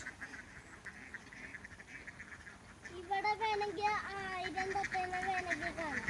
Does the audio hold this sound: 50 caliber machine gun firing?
no